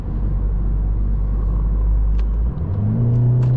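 A car engine on a midnight winter drive, heard from inside as a steady low drone that shifts and then climbs in pitch as it accelerates. Close and continuous, with no voices.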